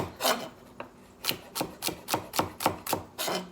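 A knife chops chicken noodle soup ingredients on a cutting board in a home kitchen, with about nine crisp, evenly spaced strokes close up and no talking.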